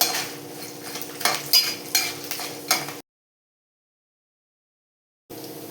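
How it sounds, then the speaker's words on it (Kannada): Chana dal, curry leaves and green chilies frying in hot oil for a South Indian meal, a busy close sizzle with stirring scrapes and utensil clinks for three seconds, then a gap of silence before the sizzle resumes. "ಎಲ್ಲ ಚೆನ್ನಾಗಿ ಬೇಳೆ ಕಂದು ಬಣ್ಣ ಬರೋವರೆಗೂ ಹುರ್ಕೊಳ್ಳೋಣ."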